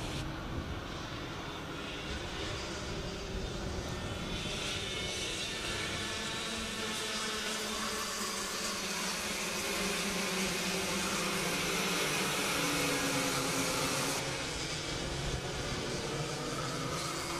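Racing karts at a ROK Cup Euro event at Kartarena Cheb, Czech Republic, a dense buzzing whine of many small engines that stays steady throughout, rising and fading as groups pass at moderate distance, with no talking.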